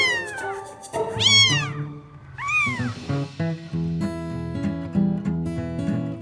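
A mostly white kitten with a few black spots meows several times, clear and close, in rising and falling calls. Soft noise from the room sits in the background.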